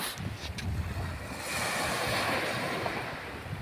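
Ocean waves surging onto the beach at Pantai Lubuk in the Riau Islands, a soft rolling wash mixed with wind noise, fairly faint and continuous.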